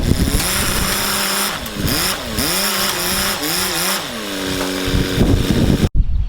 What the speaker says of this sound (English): Now I'm hoping I can just push it that way with the forklift.